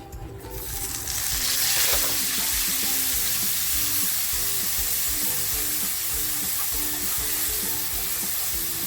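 Chopped onion dropped into hot oil bursts into a loud sizzle that swells within the first second, then settles into a steady, close frying hiss with light crackle throughout.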